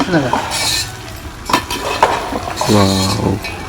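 Tempering spices in hot oil sizzle and crackle in bursts for curry leaf rice while a spoon stirs and clinks against a pan; a voice briefly sounds in between.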